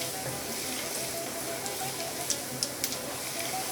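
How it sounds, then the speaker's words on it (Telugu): Chana dal, mustard seeds, cumin and dried red chillies fry in hot oil with a steady, dense sizzle, broken near the end by a few sharp pops and crackles. "శనగపప్పు, ఆవాలు, జీలకర్ర. అవి కొద్దిగా వేగినాక అప్పుడు ఎండుమిరపకాయలు వేసుకోవాలి."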